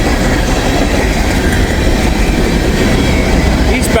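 A train rolls past close by on railroad tracks, a loud, continuous rumble with rattling wheel noise that holds steady throughout and sharpens briefly near the end.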